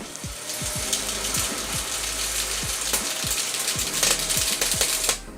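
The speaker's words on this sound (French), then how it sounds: "Et là, magique, il m'a rempli mon chargeur en quelques secondes." Electric airsoft speedloader filling a mid-cap AEG magazine with BBs: a continuous mechanical whir with a rapid, regular string of sharp clicks and rattles as BBs feed in, close and steady for several seconds, no talking.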